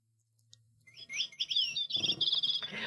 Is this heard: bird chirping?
yes